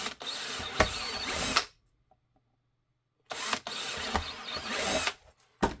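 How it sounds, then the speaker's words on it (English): A power drill whirs loudly in two sustained bursts separated by a pause of silence, grinding all the way through Glock 21 IWB holster material up close, with a brief restart at the end. "Then we're going to drill all the way through."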